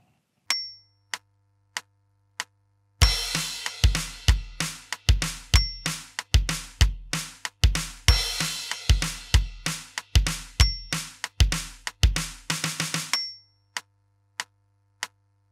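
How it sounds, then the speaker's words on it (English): Drum-kit chorus groove from a song, a steady loud rock beat with cymbals that ends in a quick run of five snare hits as a transition, framed by sparse clicks before and after, with no voices. "So the chorus with the transition into the second half of the chorus sounds like this."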